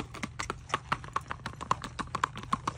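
Hooves of a ridden 10-year-old Missouri Fox Trotter gelding beat out a quick, steady, gaited clip-clop on hard ground, close and clear, in a continuous even rhythm.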